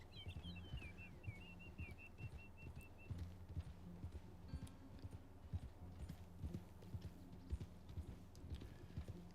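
Horse hooves clip-clopping steadily along a road in the Red Dead Online video game, a regular rhythmic gait at moderate distance with a brief bird call near the start.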